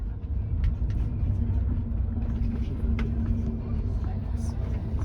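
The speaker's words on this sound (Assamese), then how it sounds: "বাছ আৰম্ভ হ'ল" A bus rumbles low and steady as it pulls away and drives on, heard from inside the cabin, with a person speaking over the engine noise.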